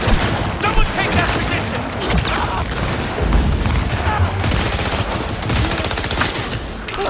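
Sustained automatic gunfire in a Cyberpunk video game battle, dense rapid bursts that are loud and close and nearly continuous, with booms and a game voice speaking over the shooting.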